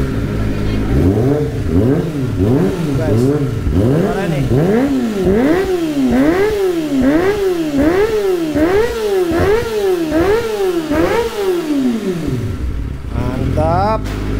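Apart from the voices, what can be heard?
Kawasaki ZX25R motorcycle revving, Yoshimura/Akrapovic exhaust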